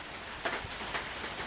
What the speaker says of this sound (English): The rain finally showed up.